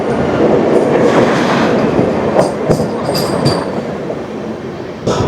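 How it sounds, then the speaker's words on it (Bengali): Amrit Bharat and Vande Bharat express trains crossing each other on Indian railway tracks, a loud sustained roar of rolling wheels with rattling carriages, brief squeals and clacks, continuous throughout and close by. "অমৃত ভারত আর বন্দে ভারত পরস্পর ক্রস করছে।"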